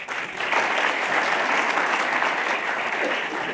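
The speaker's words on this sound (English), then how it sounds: "Round of applause, please." Audience applause at a tech conference keynote, a dense steady clapping from a large crowd that swells quickly and holds for several seconds without a pause.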